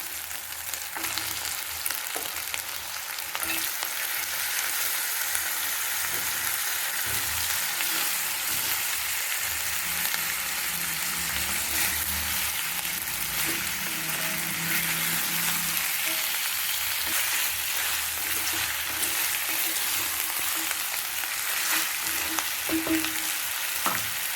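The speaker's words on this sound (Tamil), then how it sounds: "இஞ்சி பூண்டு பேஸ்ட்டு வெங்காயம் நல்லா வதங்கிட்டு இப்போ நம்ம காடையை போட்டுக்கலாம்." Quail fries with onion and ginger garlic paste in a pan, giving a dense, steady sizzle throughout with occasional soft stirring scrapes and no talk.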